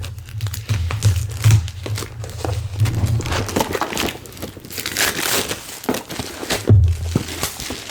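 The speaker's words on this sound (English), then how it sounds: "these plastic wrappings are getting harder and harder to get open" Plastic shrink wrap on a Hues and Cues board game box being stretched, crinkled and torn open by hand, a continuous close crackling and rustling with a few sharper tearing bursts, no one speaking.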